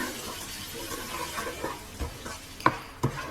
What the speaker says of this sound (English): It's time now to add our yogurt, and we give that a little mix through.